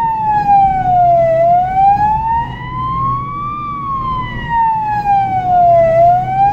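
An ambulance siren set off by flashing the headlights wails loudly and close up, a continuous tone sweeping slowly down and up over an engine hum.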